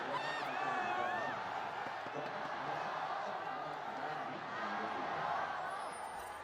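An esports arena crowd at the 2021 LPL Spring Finals of League of Legends roars and cheers in a steady, distant wash, with a voice talking over it and a few whoops rising above.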